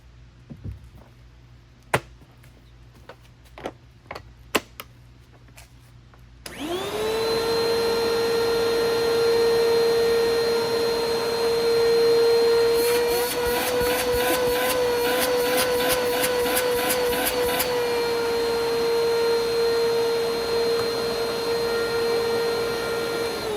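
A repaired Bissell PowerForce Helix upright vacuum cleaner starts after several sharp clicks and knocks, then runs loud and steady with a high motor whine, a brief rapid rattling chatter partway through, and no talking.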